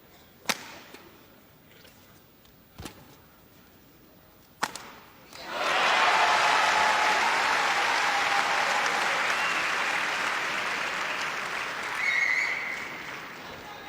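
A crowd at a 1987 All England badminton match breaks into sustained applause after a few sharp shuttle hits, the clapping rising quickly and holding steady and loud until the end.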